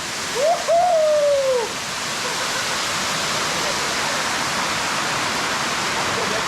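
Close, continuous rushing roar of Jhorjhori waterfall, first falls on the Napittachhara trail; near the start a brief whistle-like call rises and falls over the water before the steady roar carries on alone.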